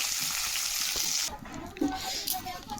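Rohu fish fries in hot oil in a home kitchen, a loud broad sizzle for over a second that then drops to quieter crackling with a few clatters.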